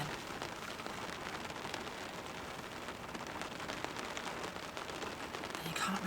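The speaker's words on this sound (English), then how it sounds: "you can't really beat, a bit of rain for ASMR noises on a roof" Rain falls on a roof: a steady, close, hissing patter of drops that runs unbroken throughout at a soft, even level.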